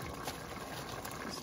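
A pot of Filipino-style pork estofado with soy sauce and pepper simmers on the stove, giving a steady, soft bubbling boil that runs evenly throughout with no talk over it.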